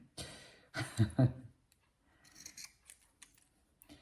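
Scissors snip through fabric in short bursts, cutting along a sewn seam while making a baby's shoulder burp cloth. Several close, crisp cuts cluster early, followed by quieter rustling of cloth.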